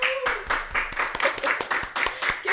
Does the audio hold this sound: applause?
yes